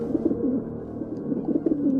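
Wood pigeons coo in soft, bubbling, repeated phrases at an open farm setting, a steady low murmur of calls running throughout at moderate distance.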